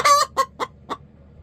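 Backyard chicken clucking in four or five short, sharp bursts, the first loudest and longest, spaced with brief gaps, close to the mic over faint low background hum.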